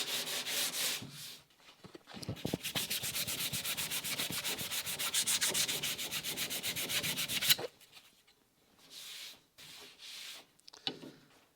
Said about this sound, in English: We'll give that a quick little sanding just to make sure our surface is well primed